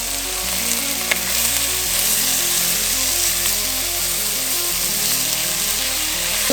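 Bite-sized chicken pieces sizzle loudly and steadily in a pot for white chicken chili, an unbroken frying hiss over a low, shifting hum.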